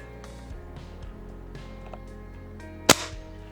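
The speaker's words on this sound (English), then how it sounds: "All I'm illustrating is that you can use an air gun" An air gun fires once with a single sharp, loud crack near the end, after a few seconds of quiet room noise.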